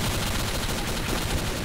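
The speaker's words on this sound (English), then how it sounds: "there's so many gunshots going on" Rapid gunfire in the multiplayer shooter Trouble in Terrorist Town, a dense continuous burst of overlapping shots that stays loud and steady for the whole stretch.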